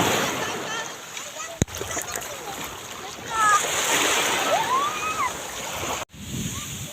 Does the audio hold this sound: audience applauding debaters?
no